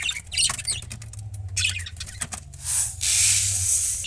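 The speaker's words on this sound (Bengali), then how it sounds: "পাখিগুলোকে খাবার দেওয়া হয়ে গেছে, পাখিগুলো খাচ্ছে" Pet parrots and budgerigars being fed chirp and tweet in bursts at close range, mixed with rustling, wing flutters and a louder stretch of scratchy noise toward the end.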